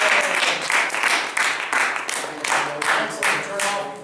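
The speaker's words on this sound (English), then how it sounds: "Give a round of applause." A class gives a round of applause, with uneven bursts of clapping close by, rising and falling in several waves over about four seconds.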